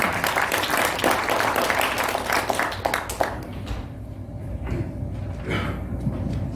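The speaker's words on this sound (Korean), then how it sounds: "박수로 환영해 주십시오." Audience applause welcoming a lecturer at a Korean theology conference session, a dense wash of clapping filling the first three seconds before thinning into scattered claps and room noise.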